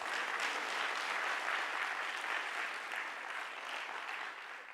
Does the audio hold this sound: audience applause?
yes